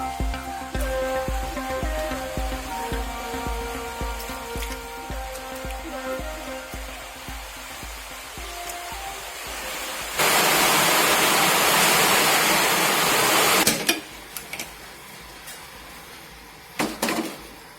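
Water left from rinsing a grinding stone is poured into ground coconut curry paste for a Kerala egg theeyal, a loud, steady splashing pour lasting about four seconds after a quieter stretch of kitchen sounds.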